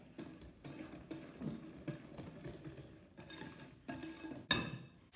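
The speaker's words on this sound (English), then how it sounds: "Whisk that in a bit." A whisk beating vanilla extract into cake batter for a lemon bundt cake, with quiet rhythmic scraping strokes against the bowl repeating about once a second and a brighter clink near the end.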